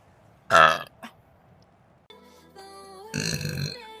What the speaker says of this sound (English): Excuse me, that was a good burp to be fair.